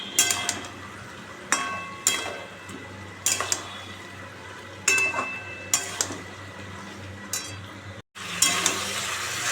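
Food being sautéed and stirred in a pan sizzles steadily, broken by sharp scraping stirs that recur roughly every second or two, close and moderately loud, with a short gap before the sizzle resumes.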